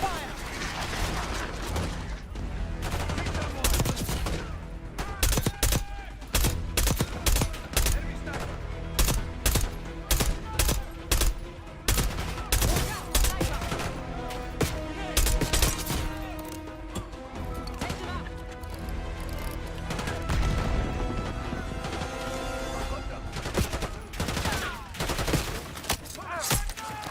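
Gunfire crackles through a Black Ops 6 Iraq campaign mission in dense, rapid bursts with automatic weapons and single shots, loud and close, while voices speak in between.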